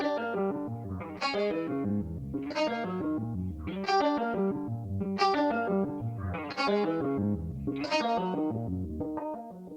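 A guitar plugin's arpeggiator effect set fully wet plays rapid stepped note patterns in repeating swells, each phrase rising then fading, about seven cycles with a processed, distorted electronic tone and no voice.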